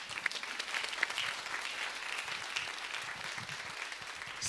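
Steady audience applause fills a town hall on race, identity and the women's movement, a dense wash of many hands clapping at even loudness throughout with no voices standing out.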